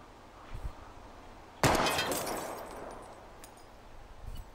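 A single sharp gunshot ricochets off a metal wheel rim in Life is Strange, a sudden crack with a bright metallic ring that decays over a couple of seconds against quiet ambience.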